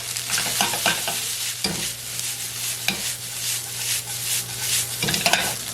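Cold leftover brown rice, about three cups, is spread in a frying pan to heat, giving a loud, close sizzle with repeated scraping stir strokes at an irregular pace.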